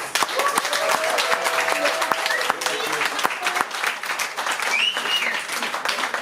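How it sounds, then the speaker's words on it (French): An audience applauds warmly at a live concert at La Zonmé in Nice, dense clapping holding steady for several seconds while a voice speaks over it. "Je vous demande un tonnerre d'applaudissements, s'il vous plaît"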